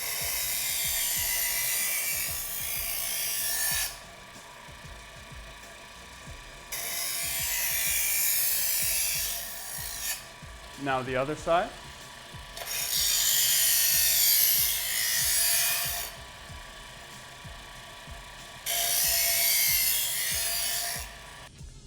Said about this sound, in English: With the Chef's Choice electronic sharpener, it's really just as easy as turning it on. It's going to be a little bit noisy.